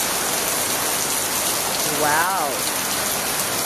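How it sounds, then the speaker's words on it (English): Heavy rain pours down in a steady, loud, hissing roar that fills the whole stretch, with a single brief exclamation from a voice partway through. "Quite a downpour."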